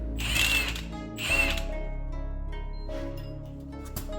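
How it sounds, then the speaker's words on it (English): An impact gun with a 17mm socket loosens the bolt at the bottom of a rear shock on a second-generation Toyota Tundra, giving two short ratcheting bursts followed by a steady mechanical hum and a faint click, with no talk. "use a 17mm wrench and an impact gun with a 17mm socket on the end of it to remove the bolt at the bottom of the shock"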